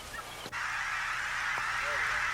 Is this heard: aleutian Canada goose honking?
yes